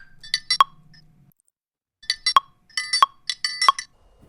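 A chopped sample loop rearranged in Ableton plays back as sparse, bright glassy clinks in short clustered bursts separated by gaps of silence, clean and close with no talking.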